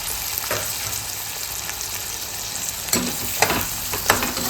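Small shallots sautéing in a pan give a steady close sizzle and frying crackle with a few sharp spoon-against-pan scrapes toward the end; no voices.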